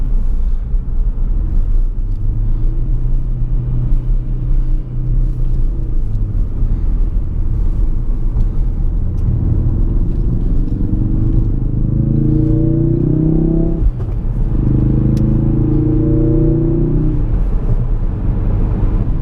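A 2017 Ford Focus RS engine drones steadily through a point-of-view drive, with rising harmonic sweeps as it pulls through the gears and a brief dip at a gearshift, all close and continuous with no talking.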